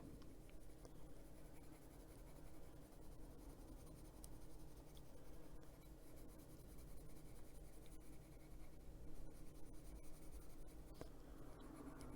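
A colored pencil scratches softly and steadily over paper in continuous light strokes, close and quiet, with no talking.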